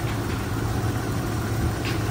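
A 1997 Jeep Grand Cherokee's 4.0-liter straight-six engine idles with the hood open, a steady, close, low rumble with no change in speed and no talking.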